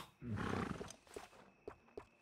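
A horse in Red Dead Redemption 2, a Tennessee Walker, snorts and whinnies in a soft burst followed by a few faint hoof clops, quiet in the game mix.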